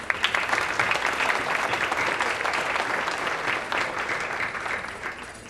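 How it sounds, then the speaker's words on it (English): A room of parents and seniors at a high school awards night claps steadily, a dense, even patter of many hands that begins with a few sharp claps and slowly fades. "give yourselves a round of applause"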